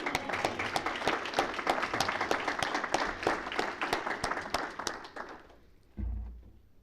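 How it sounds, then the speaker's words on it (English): Applause from the audience at a county department of education board meeting, steady dense clapping for several seconds that tapers off, followed by a low thump near the end. "you can give them a round of applause."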